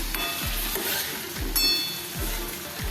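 Spatula scraping and stirring potato and capsicum dry sabzi in a pan, in steady repeated strokes roughly every half second over a soft background sizzle, close and moderately loud.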